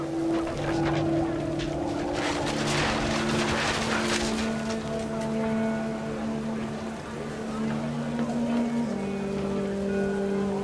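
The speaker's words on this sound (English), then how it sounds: "Rain came down in buckets then," Heavy rain falling steadily in the video game What Remains of Edith Finch, a continuous dense wash under sustained tonal game music and low rumble, loud and unbroken throughout.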